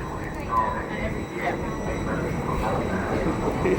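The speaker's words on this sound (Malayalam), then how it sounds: "ഇതെന്താ നമുക്ക് പോകാനുള്ള ട്രെയിൻ" A train rumbles steadily nearby, a low continuous roar of rolling wheels, with people's voices mixed in underneath.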